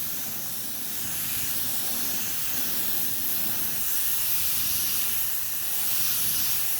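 Spray gun with the nozzle turned down laying black candy metallic paint onto a car for a custom fade job, a steady close hiss running unbroken throughout.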